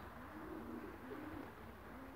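Soft pigeon cooing, low and murmuring, heard faintly against a steady background hiss.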